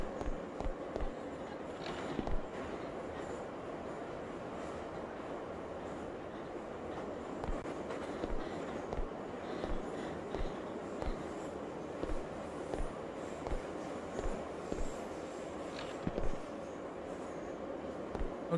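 A moving train rattles steadily in a video game, with faint irregular clacks and bumps over a continuous low rumble, heard alone without talk.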